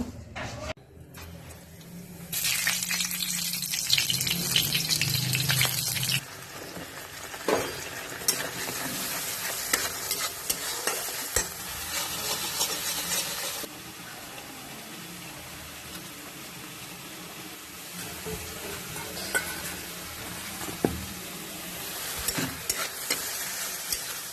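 Spice paste frying and being stirred in a pan at home, with steady sizzling broken by scraping stirs and a louder burst of frying early on, then continuing at a moderate level.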